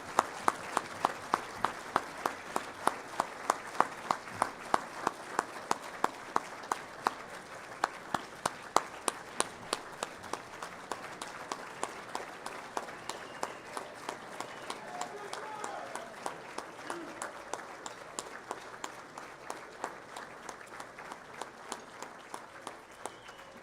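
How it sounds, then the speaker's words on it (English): Audience applause for the event chairman at an athletic hall of fame ceremony, a long run of crowd clapping with a steady pulse of rhythmic claps on top, fairly quiet and sustained. "let's give Duke a round of applause"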